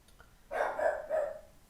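Dexter the dog gives two or three quick, moderately loud barks close by, run together into a short burst in an otherwise quiet room.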